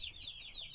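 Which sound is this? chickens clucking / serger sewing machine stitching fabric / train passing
chickens clucking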